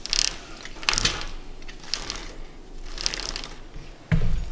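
A race car chain with one bound-up link makes repeated mechanical clicks and ratcheting rattles at roughly one-second intervals over a steady whirring drive noise, ending in a louder rough grinding burst.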